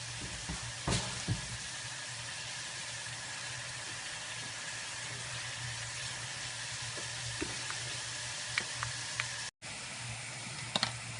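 Red pepper and onion sofrito frying in a pan: a steady, soft, continuous sizzle with occasional small clicks and pops, faint and fairly close, with no talking.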